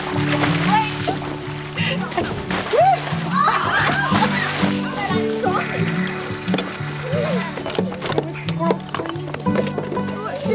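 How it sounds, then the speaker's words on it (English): Children stomp and splash through muddy puddles outdoors at a farm school, with repeated wet slaps and sloshing close by, while their excited voices and shouts carry throughout. "Let's have puddle war, Kiki."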